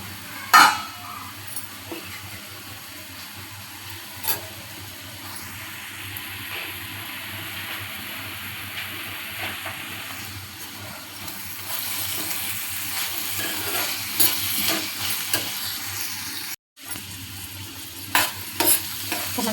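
Onions fry in a pan with a steady sizzle and occasional stirring scrapes and clinks, close by and continuous, with no one talking.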